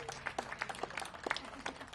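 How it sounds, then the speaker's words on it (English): An audience applauds at the grand opening of an apartment building. The scattered handclaps sound faint and distant, thinning out over a couple of seconds. "Let's give her another applause."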